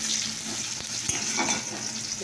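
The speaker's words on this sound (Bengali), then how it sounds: "দেখো পেঁয়াজ ভাজা হচ্ছে।" Onions frying in a pan, a steady close sizzle with occasional stirring scrapes and small pops, no talking.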